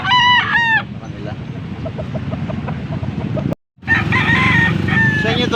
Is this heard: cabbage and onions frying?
no